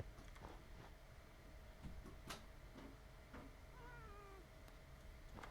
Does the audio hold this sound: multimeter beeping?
no